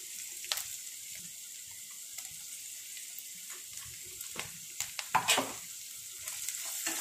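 Onions and ginger garlic paste for a prawn semiya biryani sizzle softly in a pan, a steady fry with a handful of spoon scrapes and clicks as the mix is sautéed, no talk.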